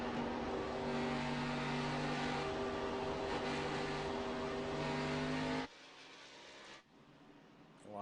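Stock cars in a Midwest Winston Cup Series race roar down the back stretch with a dense, loud, sustained engine drone that cuts off sharply, leaving fainter fading engine noise.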